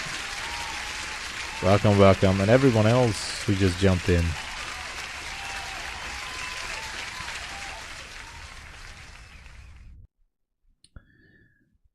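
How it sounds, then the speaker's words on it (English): Applause sound effect played during a live day-trading stream, canned clapping that runs for several seconds and cuts off abruptly, with someone talking over it. "Let me give you an applause"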